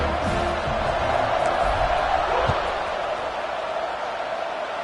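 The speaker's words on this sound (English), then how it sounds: "this crowd is buzzing after that last score" A football stadium crowd hums with a broad, steady roar after a UCF score, loud and constant with a few faint thumps beneath it and no clear talk.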